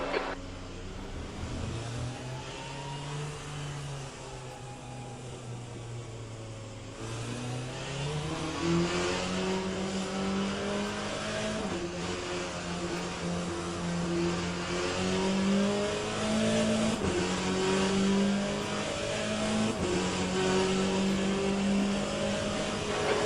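A race car engine in the Le Mans Ultimate sim racing game drones steadily, then climbs through repeated rising revs and upshifts, loud and continuous with no talk over it.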